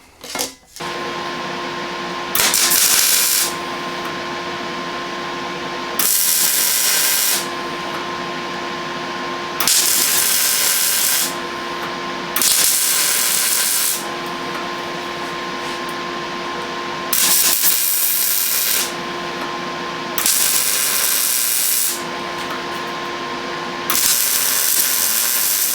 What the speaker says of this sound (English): I'm going to go ahead and pull this actually off again, weld this right up